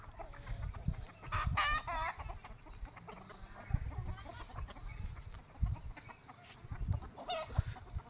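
Free-range desi hens cluck around a village farmyard, with repeated nearby clucks and occasional squawks over a steady high insect-like drone and faint rustling.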